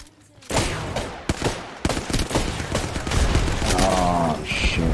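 A Hemlok rifle in a video game fires on full auto, dense rapid bursts of gunfire crackling loudly and continuously amid other in-game combat sounds.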